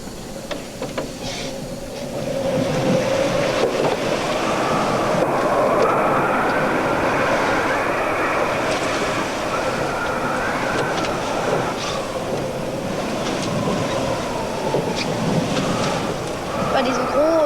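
Large ocean waves wash and surge around a sailing yacht on the open sea, a continuous loud rushing roar with swells rising and falling, no voices.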